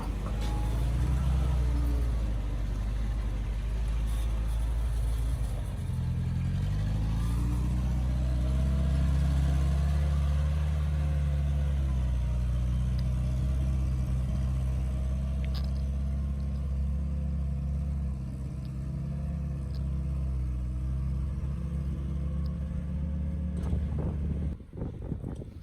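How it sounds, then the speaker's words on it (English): Mercedes-Benz off-road vehicle crawling over a rocky trail obstacle at Flat Iron Mesa, its engine a steady low rumble close by for the whole stretch, with wind buffeting and no talk. "Jesse and his MB get a little bit of wheel lift here"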